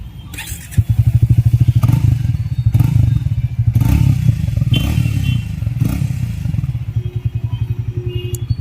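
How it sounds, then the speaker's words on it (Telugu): A 2024 Triumph Speed T4 motorcycle idling and revving close by, a loud, steady low exhaust thrum that rises and falls through several throttle blips before settling back to a lumpy idle. "So let me rev up the engine. So మీరు కూడా ఒకసారి ఎగ్జాస్ట్ సౌండ్ వినండి."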